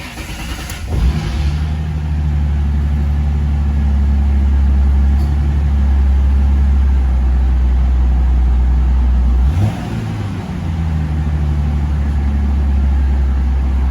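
A 2006 Ford Mustang engine cranks and catches after about a second, then settles into a loud, steady idle close by. Around ten seconds in it gives one brief rev before dropping back to idle, with no talking.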